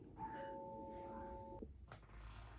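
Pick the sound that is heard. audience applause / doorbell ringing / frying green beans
doorbell ringing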